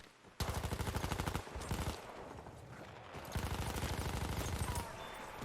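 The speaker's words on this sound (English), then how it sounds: "the next gun on our list. And that gun, of course, is the SMG-08." SMG-08 submachine gun firing in Battlefield 1, loud rapid automatic bursts with a short pause between them, ending in a sustained stream of shots over game ambience.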